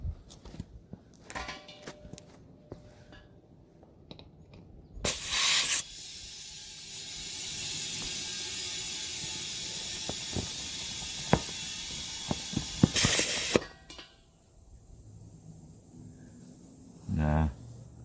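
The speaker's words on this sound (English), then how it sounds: "get my air compressor and see if those will hold air" An air compressor pushes air into the old tires of a barn-find Honda ATC 185S, giving two loud bursts of hiss and a long steady rush of escaping air between them, with faint rustling and brief talk before.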